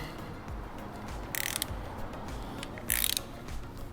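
A 13 mm socket on an extension loosens the front sprocket nut on an Aprilia RSV4 motorcycle: two short, sharp bursts of metallic ratchet clicking over a low steady background hum, close up.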